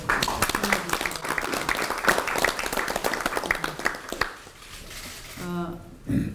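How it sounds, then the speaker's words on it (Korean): A crowd at a Democratic Party of Korea leadership meeting in the Chungcheong region claps loudly and steadily for about four seconds, then fades as a voice speaks at the end. "큰 박수를 한번"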